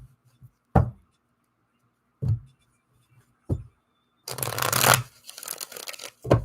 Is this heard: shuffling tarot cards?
yes